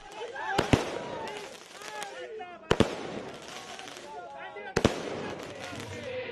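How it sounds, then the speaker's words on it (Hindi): Party workers set off celebratory fireworks late at night outside a political leader's home after an election win in Bihar, India. Three sharp, loud bangs ring out at intervals, with crackling bursts and talking voices throughout. "पार्टी कार्यकर्ताओं ने आतिशबाजी कर जीत का जश्न मनाया।"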